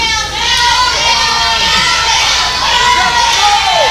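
A wrestling crowd at a live independent show shouts and cheers continuously, with loud, dense voices and children's shrieks rising over the din.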